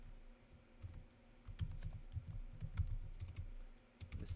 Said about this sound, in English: let's type that.